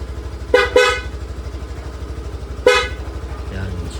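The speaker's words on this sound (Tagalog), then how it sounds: "So yun yung ating Pia horn" Three loud, blaring PIAA dual horn honks on a Suzuki Access 125 scooter, two quick ones then a third after a pause, over a steady idling engine putter nearby.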